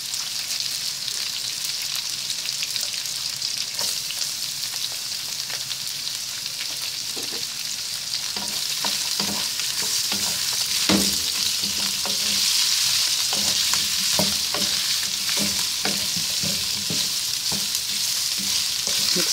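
Garlic sizzles and fries steadily in a hot pan for beef caldereta, a continuous loud crackle with intermittent scraping stir strokes toward the latter half.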